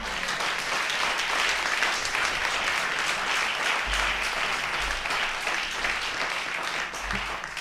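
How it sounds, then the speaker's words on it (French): A congregation at a church family conference applauds in a sustained, dense wash of clapping from many hands, steady and loud throughout with a low hum underneath. "On applaudit Jésus."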